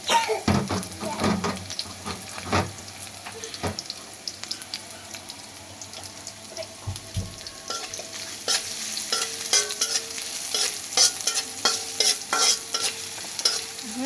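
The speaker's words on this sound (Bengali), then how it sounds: "এটার মধ্যে পেঁয়াজ আর রসুনটা ছেড়ে দিচ্ছি" Onion and garlic frying in a pan, with steady sizzling broken by repeated scraping stirs of a utensil against the pan, close and fairly loud throughout.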